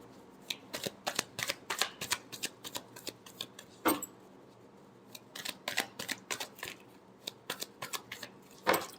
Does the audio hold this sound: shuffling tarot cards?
yes